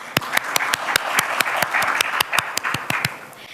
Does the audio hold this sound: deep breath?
no